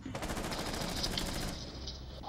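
Rapid automatic gunfire in the tactical shooter game Rainbow Six Siege, loud and close, with a dense burst of shots for about a second and a half before easing into quieter trailing noise.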